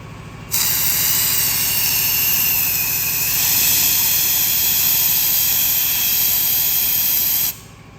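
A steady loud hiss of compressed air blasting through an aluminium boat tank, starting abruptly, holding for about seven seconds, then cutting off sharply.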